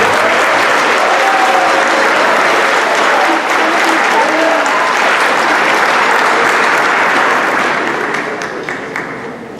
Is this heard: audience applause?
yes